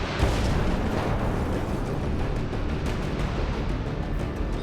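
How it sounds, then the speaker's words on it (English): An explosion during a high-speed chase roars as a dense, sustained blast of rumbling noise that stays loud and close for several seconds, with no voices heard. "The explosion itself was bone rattling."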